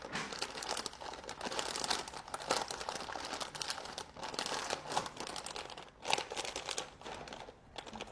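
A plastic bag crinkled and crushed by hand, a steady papery crackle with brief pauses, close and fairly loud throughout with no talking.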